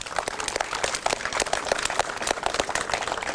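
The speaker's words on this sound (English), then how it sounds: "Give a big round of applause for all the Parks and Rec and City staff here, would you please?" Audience applause at a groundbreaking ceremony for a new recreation center in Frogtown, Saint Paul, honoring Parks and Rec and city staff: dense, continuous clapping at a moderate level, sustained across the whole stretch with no speech.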